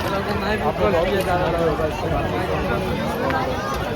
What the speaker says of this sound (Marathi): गर्दी बा गर्दी इथे खूप आहे गर्दी.